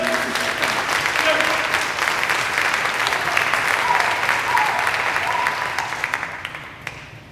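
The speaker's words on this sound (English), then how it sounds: "give our sisters another round of applause for that" Sustained audience applause fills a hall at a public talk on HR 40 reparations, a dense steady wash of clapping with scattered voices and cheers mixed in, tapering off over the last second.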